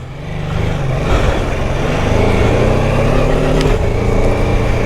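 A BMW F 450 GS motorcycle pulls away in sand, its engine note rising from a rumble into a steady loud drone as it gathers speed, heard close and alone.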